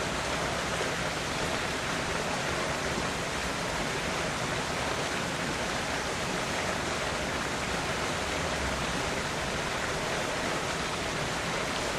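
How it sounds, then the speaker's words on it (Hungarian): Muddy stream water being stirred with a cup in a container, a steady broadband wash of swishing water with no breaks, close and continuous throughout. "Még egy kicsit keverek a kuppal."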